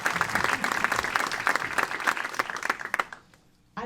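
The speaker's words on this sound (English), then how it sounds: "Let's all give them a round of applause." An audience at a town government's annual address claps steadily in dense, continuous applause that holds for about three seconds and then fades out quickly.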